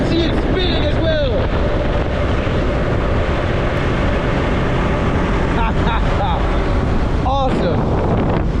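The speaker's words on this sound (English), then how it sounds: "The winds are quite strong here" Strong wind roars over a camera mounted on a motorcycle on an Argentine road near a small whirlwind, a loud steady buffeting rush throughout with faint higher squeaks and no speech.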